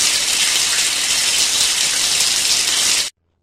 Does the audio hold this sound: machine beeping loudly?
no